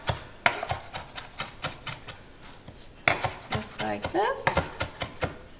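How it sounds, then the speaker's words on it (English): A knife chops a bunch of fresh cilantro on a board in quick, regular strokes, each crisp tap close and distinct, with a brief spoken phrase partway through. "So I'm gonna do a bunch of cilantro in there. Give it a good chop."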